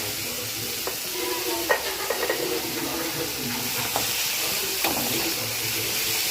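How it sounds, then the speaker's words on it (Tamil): Onions sizzle and fry in a pan with salt, cooking for a Tamil broad bean poriyal. There is a steady hiss throughout, with scattered scraping clicks from the spoon stirring. No one speaks. "வெங்காயம் வதக்கிட்டுருக்கேன்."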